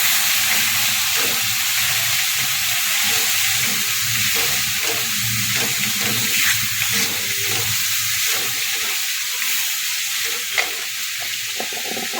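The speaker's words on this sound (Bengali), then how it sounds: "মশলাটা ভালো করে মশলাটাকে ভেজে নেবো" Spice paste with red chili powder and a splash of water fries loudly in a pan for a bitter gourd curry, a dense steady sizzle with faint stirring scrapes throughout and no voices.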